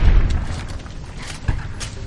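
A 9mm pistol fired in Fallout New Vegas: two muffled, booming shots about a second and a half apart, each with a short thud-like decay.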